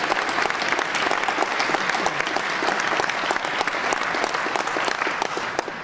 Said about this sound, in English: And I'd give them a round of applause.